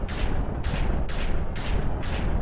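Rapid series of about five heavy booming launches from the video game From The Depths, loud and evenly spaced, overlapping into a dense rumbling barrage with no voices.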